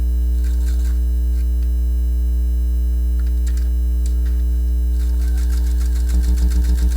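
A sewing machine stitches along a fold line in jeans fabric under a strong steady motor hum, with faint intermittent needle clatter that grows into a quicker, louder rhythmic run near the end.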